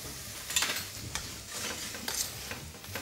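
Lemon zest and sugar stirred as they cook down in a pan, a soft sizzle with a few scraping strokes of a utensil, close and quiet, with no voices.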